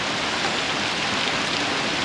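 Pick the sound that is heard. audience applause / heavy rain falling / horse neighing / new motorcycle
heavy rain falling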